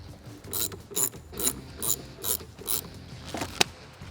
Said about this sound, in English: For these terminal clamps, we need to loosen an 8mm nut on either side and twist and pull off.